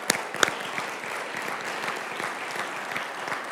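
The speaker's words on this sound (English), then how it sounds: "how about a big round of applause for you" Conference audience at Digital Crossroads breaking into applause, a few sharp opening claps followed by a sustained, moderately loud patter of many hands with no voices.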